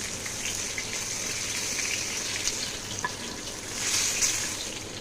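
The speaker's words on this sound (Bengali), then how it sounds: "তো এই দেখো আমি যেহেতু প্যানে মাছটা ভাজছি" Pomfret fish fries in oil in a pan, giving a steady close hiss with scattered pops and spatters that swell briefly toward the end.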